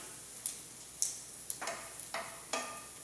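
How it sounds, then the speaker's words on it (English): Vegan sausages browning in a frying pan give off a faint, patchy sizzle, with several soft crackling bursts spread across the few seconds and no talk. "You can hear the sizzling, and my sausages are browning."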